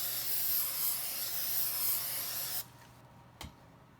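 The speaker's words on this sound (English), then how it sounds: "and spray directly onto the rag." Plexus plastic polish sprayed from an aerosol can onto a cleaning rag during cleaning of a Bernina 880 sewing machine; a steady, loud hiss lasts a couple of seconds and then cuts off, followed by one short, soft burst.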